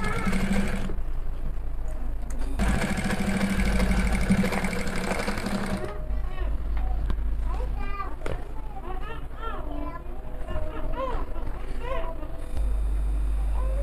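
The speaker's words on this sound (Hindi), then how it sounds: "तो अभी हमारे अस्तर का सिलाई हो रहा है" A sewing machine stitches the lining of a ladies' handbag at home, with bursts of fast, buzzing stitching that start and stop. Someone talks throughout, and children can be heard in the background.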